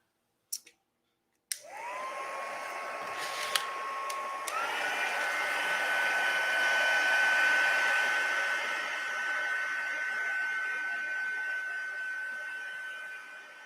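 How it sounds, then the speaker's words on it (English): A hot heat gun blows on embossing powder for card making, a steady loud whirring hiss that starts after a short click and runs to the end, shifting slightly in pitch partway through. "And my heat gun is a lot hotter since I just used it."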